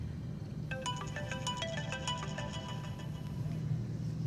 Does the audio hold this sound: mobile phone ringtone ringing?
yes